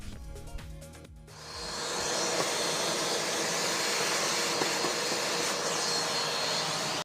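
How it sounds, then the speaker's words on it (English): A vacuum cleaner sucks dust out of pockets in a piece of furniture. It clicks and whirs as it starts, then climbs into a loud, steady roar that is close by and lasts several seconds before it cuts off suddenly. "The vacuum is definitely the best way to go when you have pockets in your projects to get stuff out"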